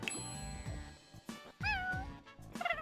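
A cat meows in The Sims 4, with several separate meows, a few of them drawn out and rising, standing alone at close range over a soft game-music bed.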